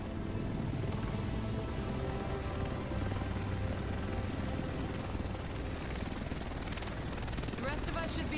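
Helicopter arriving in The Division video game, a steady dense rotor rumble and drone holding throughout at moderate level, with faint voices talking underneath.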